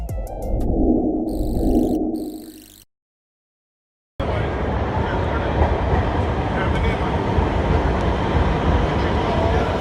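The Lahore Orange Line metro train rumbles along the track in a steady, loud ride after a brief break, with some talk at the start before the noise takes over.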